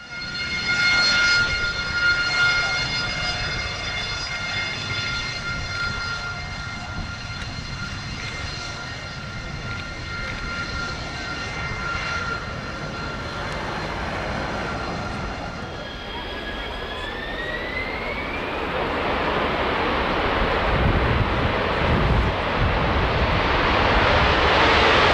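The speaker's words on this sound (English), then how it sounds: "Spanish Navy EAV-8B representing the Harrier," Spanish Navy EAV-8B Harrier jet roaring past at the RIAT airshow, a loud sustained engine whine with a rising pitch sweep toward the end, heard from a distance with outdoor crowd ambience.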